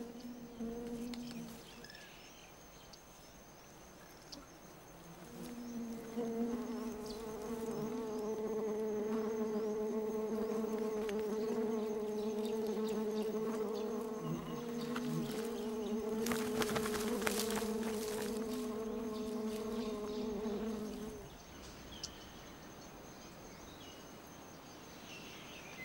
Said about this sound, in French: les abeilles fondent sur ses restes